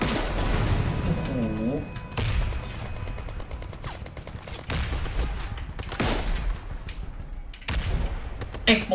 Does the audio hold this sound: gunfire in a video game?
yes